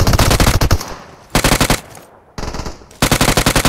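Automatic gunfire in the mobile battle royale game PUBG Mobile, loud rapid bursts of shots in three separate volleys with short pauses between them, no speech.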